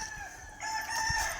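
A young White Kelso gamefowl rooster crows in a short, clear, fairly close call that holds steady and rises slightly toward the end.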